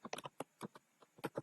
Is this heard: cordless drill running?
no